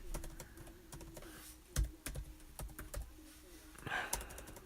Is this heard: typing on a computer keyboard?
yes